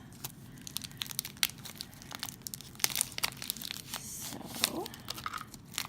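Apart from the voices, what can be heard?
tearing off shrink wrap from tarot deck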